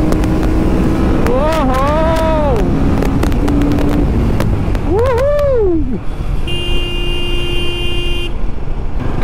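A Royal Enfield Himalayan 450 motorcycle revs hard through its gears on a touring ride, the engine note sweeping up and dropping in repeated pulls under steady wind rush, with a rider's brief exclamation.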